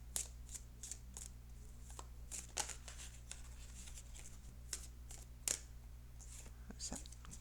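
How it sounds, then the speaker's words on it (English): Tarot cards being cut and handled in a quiet room, soft papery slides and crisp flicks in irregular bursts over a low steady hum, with a hushed voice faintly in the background. "I'm going to cut the cards in just a few more seconds"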